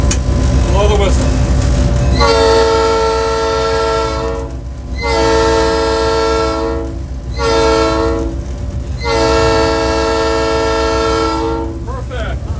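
From inside the locomotive cab on a cab ride, a train whistle blows loud and close in several long blasts separated by short gaps, over the steady rumble of the engine.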